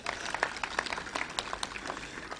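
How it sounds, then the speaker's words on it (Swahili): Applause for Nairobi Metropolitan Services at an official health services event, a modest spread of scattered hand claps from a crowd, steady and fairly faint throughout with no break. "Makofi kwa NMS."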